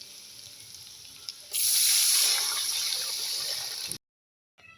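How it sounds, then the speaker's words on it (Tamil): Tamarind water splashes into a hot pan of fried chilies, chickpeas and curry leaves, a sudden loud rushing pour and hiss lasting a few seconds before cutting off abruptly. "கரைச்சி வச்சுக்கிற புளி தண்ணியை ஊற்றிக்கலாம்"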